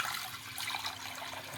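Water running steadily into a pan on a gas stove before boiling eggs, a soft continuous hiss and trickle throughout, fairly quiet.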